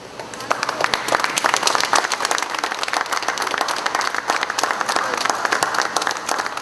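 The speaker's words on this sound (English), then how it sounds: "it was all smiles and applause when the minister and members of the institute did the unveiling of the company's plaque" Applause from a gathering of officials as a minister and institute members unveil a company plaque, steady dense clapping sustained throughout with a faint voice underneath.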